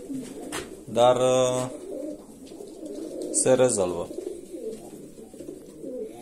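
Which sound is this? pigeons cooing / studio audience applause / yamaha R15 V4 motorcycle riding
pigeons cooing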